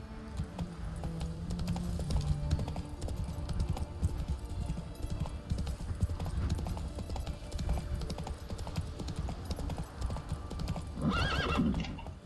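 Horse in The Witcher 3 game galloping with rapid, rhythmic hoof clip-clops throughout, fairly close, ending in a loud whinny and snort near the end.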